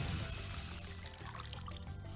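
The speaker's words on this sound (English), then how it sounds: "I'm pouring me a cup" A drink is poured into a cup: a faint, soft liquid trickle over quiet background tones from a Spyro Reignited Trilogy game session.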